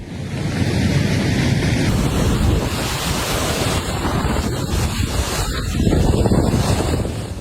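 Heavy storm surf crashes continuously against the Sicilian coast, a dense, loud roar of breaking water mixed with hurricane-force gusty wind buffeting the microphone.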